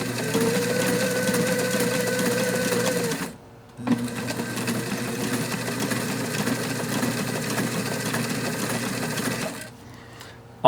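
Sewing machine running steadily while stitching a rectangular basting stitch on a climbing cam sling, a continuous close mechanical whir that stops briefly near the start and again at the end.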